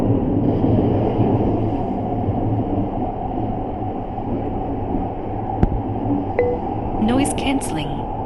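Steady low rumble and rattling hiss inside a moving train carriage, with a brief sharp click and faint clinks near the end.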